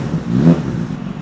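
A supercharged Kawasaki ZH2 motorcycle fitted with an aftermarket carbon-tipped exhaust idles at low RPM, a loud, close, deep rumble with a slight swell in the middle.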